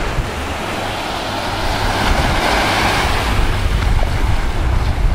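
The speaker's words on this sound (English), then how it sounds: "now this is the beach we're currently at" Waves at a beach rolling in as a continuous broad wash of surf that swells slightly louder midway, mixed with steady wind buffeting the microphone.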